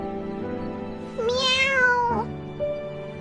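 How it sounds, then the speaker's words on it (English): A cat gives one clear, rising-then-falling meow, close and loud over a quiet background, followed by a faint short chirp. "Meow!"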